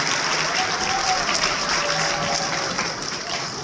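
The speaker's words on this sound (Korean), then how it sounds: "여러분 큰 박수 다시 한번 부탁드리겠습니다." Applause from the audience at the Choi Dong-won Award ceremony for baseball players, sponsored by BNK Busan Bank, a steady, full burst of clapping lasting almost four seconds that eases slightly at the end.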